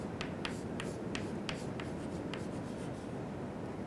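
Chalk or marker tapping and scratching on a board during an engineering lecture: a series of quick, irregular strokes at close range over a steady room hiss, with no talk.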